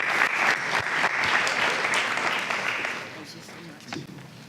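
An audience at a press conference claps in a steady round of applause that thins out and fades toward the end, with a voice briefly heard over it.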